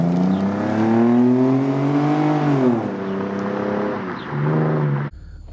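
An Audi engine revs loudly and steadily, its pitch sweeping up and easing down in a long rising whine, then a second shorter rev before cutting off abruptly.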